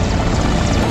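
A helicopter in flight over a mountain valley, a loud steady rotor and engine roar filling the whole second with no break.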